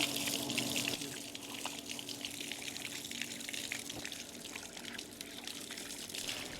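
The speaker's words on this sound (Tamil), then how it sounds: "இதை முதல் கழுவி எடுத்துடுவோம்" Running tap water splashes steadily over a plucked country rooster being washed, a continuous close gush with faint handling sounds and no talk.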